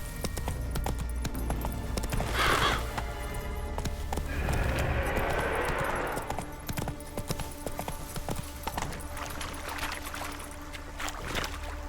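Horse hooves clip-clopping in The Witcher 3, a steady rhythm of moderately loud steps under game ambience and music, with a brief rider call.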